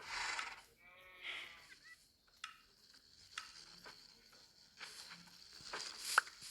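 A goat bleating in a block-building video game farm, with a few short synthetic bleats among scattered clicks and game sounds, no talk.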